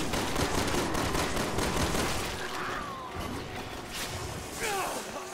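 Gunfire in Resident Evil 6: a dense clatter of shots and battle noise, loudest in the first half, easing with a few brief whooshing effects later, and a voice faintly beneath.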